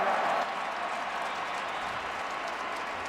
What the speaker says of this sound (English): credit that to the crowd noise